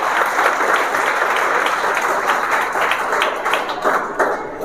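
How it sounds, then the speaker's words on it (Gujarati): Sustained applause from a crowd welcoming guests, dense steady clapping for several seconds at an even loudness. "આપણે સૌ તેમનું તાળીઓથી સ્વાગત કરીએ"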